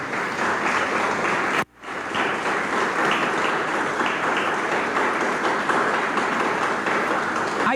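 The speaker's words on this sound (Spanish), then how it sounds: "Denle el aplauso al Señor." A church congregation at a Sunday service breaks into sustained, full applause, which is cut by a brief break before the thick clapping resumes and continues steadily.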